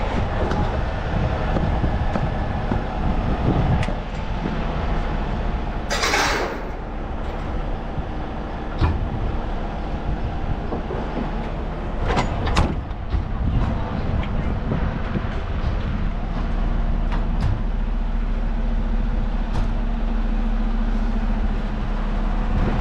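A big 75-ton rotator tow truck rumbles along the road, its heavy engine and road noise steady and loud throughout, with a few sharp clunks and rattles from the rig along the way.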